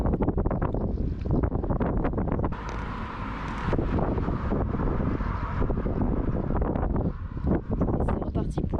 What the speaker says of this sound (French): je parle, mais il y a du vent. Vous n'entendez certainement rien